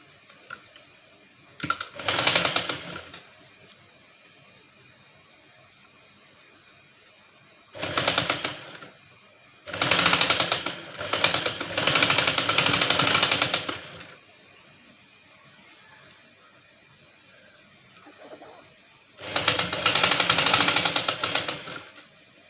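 Sewing machine stitching a folded seam on a dress coat, running in several separate bursts of a few seconds each with quiet pauses between, close and fairly loud.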